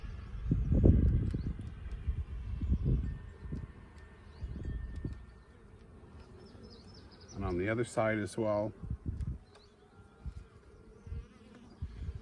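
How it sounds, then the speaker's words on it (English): Honey bees buzz around a hive that came from a swarm, a steady insect hum running under a man's close-up talk, with a louder burst near the middle. "So you see lots of bees there."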